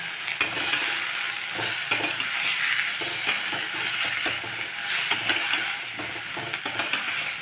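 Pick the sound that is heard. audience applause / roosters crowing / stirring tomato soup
stirring tomato soup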